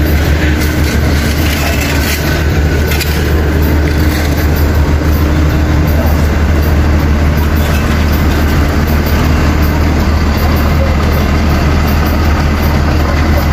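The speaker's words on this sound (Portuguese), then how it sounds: "O trator tá pintando lá" A tractor engine runs steadily and loudly close by, a continuous heavy low rumble with no pauses and no talk over it.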